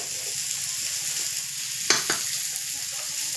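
Potatoes and spices frying in a pan over a clay stove, a constant hissing sizzle with a couple of brief clatters from a spoon or spice being dropped in midway.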